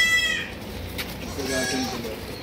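Barbari goats bleat at a farm, with a brief bleat at the start and more bleating later, while people talk in Hindi over them.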